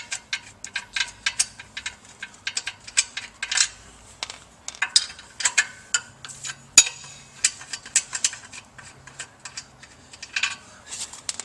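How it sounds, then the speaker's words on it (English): Metallic clinks, taps and ratcheting of tools while bolts are removed from the motor of a Grundfos CR pump, a quick irregular series of small sharp clicks, close and fairly quiet. "the next step will be to remove the 4 motor bolts"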